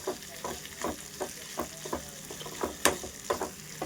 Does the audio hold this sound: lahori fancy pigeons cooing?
no